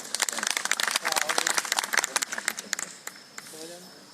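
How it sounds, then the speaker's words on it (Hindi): Loud, dense applause from an audience at a Hindi poetry gathering at the Matangeshwar Mahashivratri fair, sustained for about three seconds before tapering off as a voice begins speaking. "एक बार उनके सम्मान में आप जोरदार तालियां बजा दें।"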